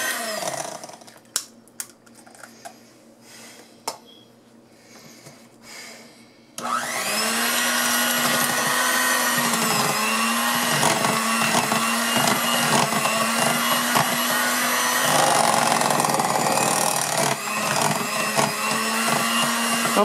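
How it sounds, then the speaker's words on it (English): An electric mixer starts up after several seconds of quiet clinks and beats eggs into cake batter for a strawberry rhubarb jam cake, a loud steady motor whir with slight pitch wavers from the beaters. "I'll beat each one of those eggs into there slowly."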